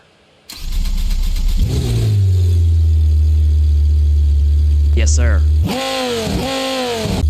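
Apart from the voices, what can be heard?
custom ETK drag car 4.8 liter V10 diesel engine in BeamNG.drive video game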